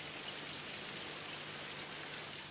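Rain falls steadily in a Moomins cartoon, a soft continuous hiss of drops with no talking, even and quiet throughout with a faint low hum beneath.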